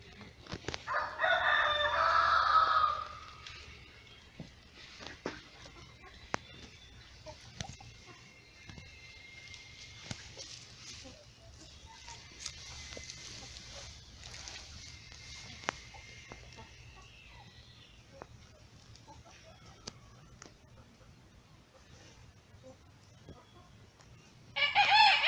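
Free-range chickens and a rooster: a loud crow rings out at the start and again at the end, with quiet scratching and occasional soft clucks across the long lull between.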